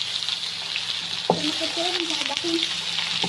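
Kofta frying in hot oil on a griddle gives a steady close sizzle, with a few stirring scrapes and soft tonal clinks partway through and no one speaking.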